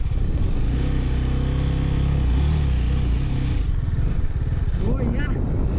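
A TVS Apache RR310 BS6 motorcycle engine labors loudly and steadily while climbing a rough farm road, its low rumble continuous throughout, then easing near the end.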